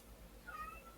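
A single faint, brief cat meow rises out of a low hum and background noise.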